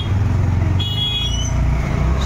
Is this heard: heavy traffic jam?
yes